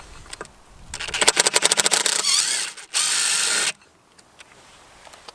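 Someone unscrews a bolt on a Yamaha Grizzly 450 ATV during a drive belt replacement, with a rapid run of ratcheting clicks followed by a short, steady tool whir close by, then quiet with faint taps.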